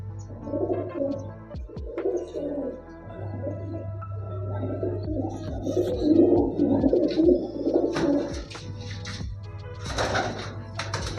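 Pigeons with purple feet and pure green, stone-coloured eyes coo in steady, overlapping low throaty calls close by, with a constant low hum and a few brief sharper bird calls near the end.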